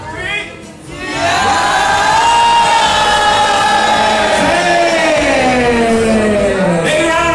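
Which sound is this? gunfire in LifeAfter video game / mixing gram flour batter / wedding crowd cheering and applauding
wedding crowd cheering and applauding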